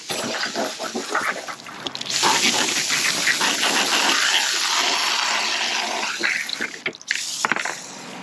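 Water gushes steadily from a tap as car parts from a custom VW MK1 Rabbit truck build are rinsed off in a sink, a continuous close splashing that shifts as the parts move under the stream.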